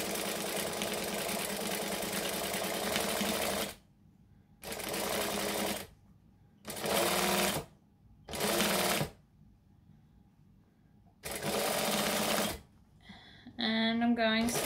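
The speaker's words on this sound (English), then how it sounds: "So I'm going to stitch and back stitch." A sewing machine stitches and back-stitches lining fabric in several steady whirring runs separated by quiet gaps, heard close, with a voice speaking briefly at the end.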